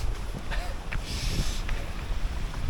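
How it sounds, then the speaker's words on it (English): Continuous strong, cold wind buffets the microphone with a rushing, gusty roar outdoors at a wild camp, with faint bumps and movement noises in the background. "That wind's really picked up."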